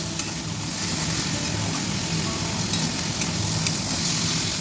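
Onion and chicken fry together in a pan for coconut chicken, giving a steady, dense sizzle and crackle that carries on without a break, with no voices.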